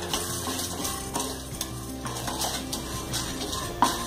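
Chana dal is dry-roasted in a pan and stirred constantly, making a close, steady rattling and scraping with a faint sizzle and no talk.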